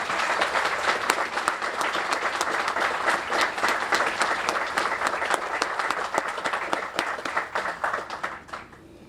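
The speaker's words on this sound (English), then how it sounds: "please give a round of applause to say thank you to these warriors for every day that they're with us." Sustained audience applause at a North Riverside Fire Department 9/11 remembrance ceremony honoring police officers and firefighters, a dense, steady crowd of clapping that holds for several seconds before fading out at the end.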